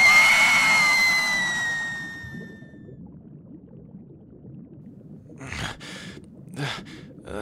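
A loud, high, drawn-out scream from a fantasy merman roleplay rises and then slides downward, fading over about two seconds. Quiet rustling and soft thuds follow.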